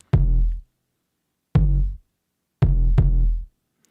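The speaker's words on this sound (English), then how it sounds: "the kick drum part, actually sounds like this." Four deep kick drum hits with long, booming sustain, the last two close together, each ringing out before falling silent; loud and isolated.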